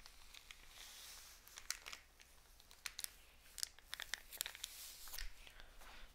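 Faint, irregular crunching and crinkling as condensation is wiped off ice, a string of sharp little crackles and scrapes scattered over several seconds at low volume.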